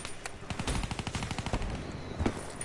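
Rapid automatic gunfire rattles through a shooter video game in quick, uneven bursts of sharp cracks, close and loud with no talk over it.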